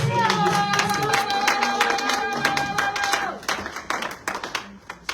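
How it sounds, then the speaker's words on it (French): Church congregation clapping in praise, a lively crowd of hands with some cheering and a sung or spoken voice underneath at first, then thinning to scattered, separate claps near the end. "Applaudissons une fois de plus pour notre Seigneur Jésus-Christ."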